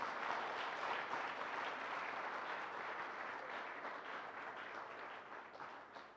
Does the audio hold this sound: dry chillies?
no